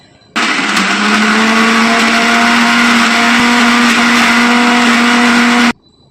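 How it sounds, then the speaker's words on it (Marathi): A kitchen mixer grinder blends paneer cubes and coriander into a fine gravy for matar paneer, producing one continuous loud whirring motor roar that starts and stops abruptly, with no voices. "आता हे सर्व आपल्याला मिक्सरच्या भांड्यामधून बारीक वाटून घ्यायचं आहे"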